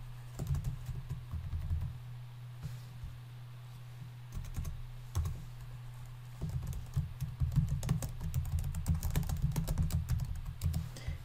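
Steady clicking of keys on a computer keyboard, continuous typing with uneven rhythm over a low background hum, no voices.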